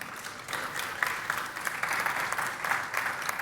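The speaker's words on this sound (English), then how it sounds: "maybe a short applause for these guys" An audience at a trade fair breaks into a short burst of applause, a dense, even patter of many hands clapping that carries on steadily for a few seconds.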